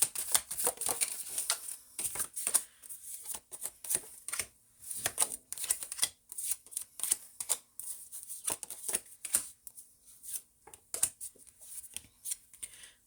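Tarot-style cards shuffled and drawn for a reading, a dense run of quick papery flicks and slaps in irregular bursts, close and fairly loud with no talking.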